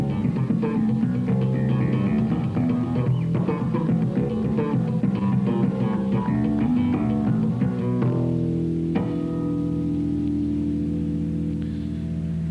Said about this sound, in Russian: Тут также играются несколько hammer-on и срывов pull-off.